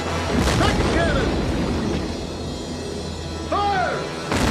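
Cannon fire in a dramatized 1862 Battle of Hampton Roads between the ironclads CSS Virginia and USS Monitor: heavy booming blasts and rumbling, with a sharp report at the end and shouted voices over the din.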